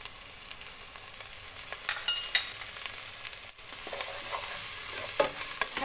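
Onion and garlic fry in margarine and butter while being stirred, a close crackling sizzle with utensil scrapes and small knocks rising and falling over several seconds.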